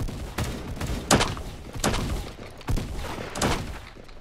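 Gunfire in the Roblox game Da Hood: several sharp, loud shots spaced across a few seconds, each a broadband crack with a short decaying tail, over a steady game background.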